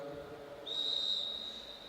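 A single sharp, high whistle blast restarting a track cycling race at the Oceania Championships in Brisbane, sustained for about a second over quiet arena background.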